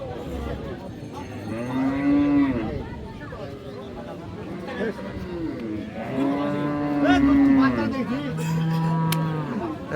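Loud, drawn-out cattle moos repeat close by at a cattle market, several calls rising and falling, with a faint hum of voices and activity behind them; Friesian cows with calves at Raniganj market, Dinajpur.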